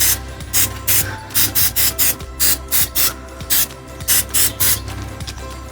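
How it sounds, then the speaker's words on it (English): Bursts of cooking oil spray hiss onto raw turkey burgers, about a dozen short, loud, close sprays in an uneven rhythm with brief gaps, no voices. "I'm also going to spray the burgers"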